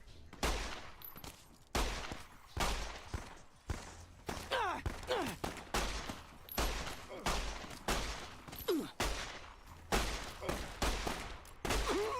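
9mm pistol fire in the video game Fallout New Vegas, a long series of sharp single shots, some spaced and some in quick clusters, loud and close, with faint whistling effects between them and no talk.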